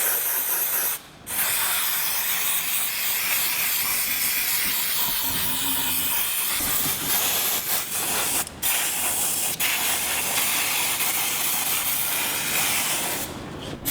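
Steady, forceful hiss of degreaser spray hitting a brake caliper and disc on a 1969 Chevy C10 custom build, continuous and close, broken only by a couple of brief pauses in the spraying.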